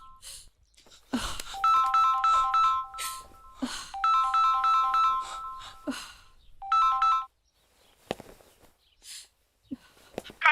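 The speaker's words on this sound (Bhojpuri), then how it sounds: "फोन आइल बा" A telephone rings with a melodic electronic ringtone in several repeated bursts separated by pauses, fairly clear and close, with footsteps and other sounds between the rings.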